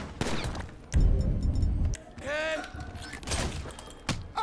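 Gunfire in the video game GTA 5 during a robbery comes as several sharp bursts of shots, mixed with brief in-game voices and a person talking.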